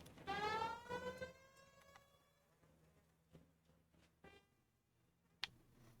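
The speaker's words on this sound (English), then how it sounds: "I don't like using the siren, it's too loud." A police car siren in the video game L.A. Noire wails loudly at first, then fades under scattered clicks and faint background sounds.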